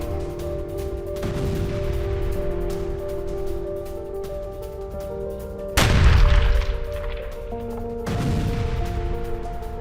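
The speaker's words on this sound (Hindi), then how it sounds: "यूक्रेनी आर्मड डिपो पर स्कैंडर मिसाइल से हमला" An Iskander missile strike on a Ukrainian armored depot sets off three separate blasts: a dull boom early, a heavier, sharper detonation midway, and another rumbling burst near the end, each over a continuous background hum.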